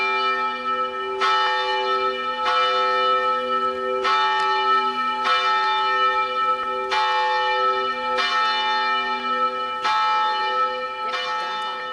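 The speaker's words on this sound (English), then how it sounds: "I invite you to begin to recess on the sound of the bell toll." A church bell tolls during a university commencement recession, with loud, ringing strikes about every 1.4 seconds, each one sustained and overlapping as its long resonant hum decays into the next.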